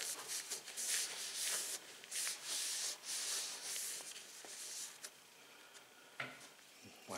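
Cloth wiping grease from a Honda string trimmer drive cable, a run of close, brisk rubbing and scraping strokes with short pauses between them and no talk.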